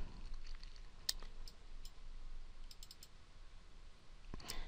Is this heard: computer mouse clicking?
yes